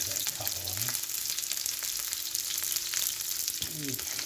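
Meat searing in a hot pan before braising gives a steady, close sizzle and crackle. Brief speech passes over it near the start and again near the end.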